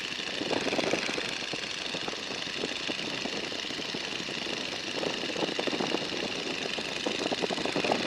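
A light airplane's engine droning steadily from inside the cabin during a flight lesson near a runway in a crosswind, a loud even rumble with a rough pulsing texture and no speech.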